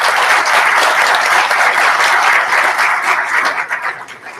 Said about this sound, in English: I'd like for you to give him a round of applause anyway